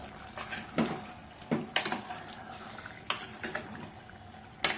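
Potato curry with sugar being stirred slowly in a pan, giving soft intermittent scrapes and clinks of a spoon against the pan in a quiet kitchen.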